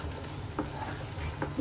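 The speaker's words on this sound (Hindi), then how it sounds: "और अभी खोया भुन गया पूरी तरीके से" Khoya being stirred and roasted in a pan while making pedas, with a low steady sizzle and a couple of soft scraping strokes, close and alone.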